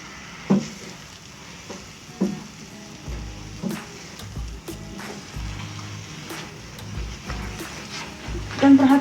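Onde-onde dough being stirred in a pan, with soft scraping and sticky stirring strokes recurring every second or so, some louder knocks of the utensil against the pan, and a faint sizzle beneath.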